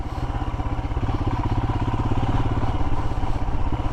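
A Royal Enfield Himalayan motorcycle rides a stony road in second gear, its single-cylinder engine thumping in a loud, rapid, steady pulse close by, with faint clatter from the surface.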